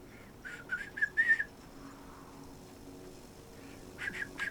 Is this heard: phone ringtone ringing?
no